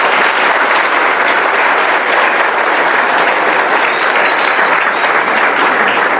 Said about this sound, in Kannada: ಅವ್ರಿಗೊಂದೊಂದು ದೊಡ್ಡ ಚಪ್ಪಾಳೆ